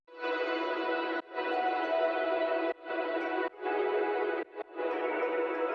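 A processed atmosphere sample in a melodic dubstep remix, treated with distortion and other effects in FL Studio, sounds as a bright sustained wash in several long chunks broken by brief gaps, played alone without talk.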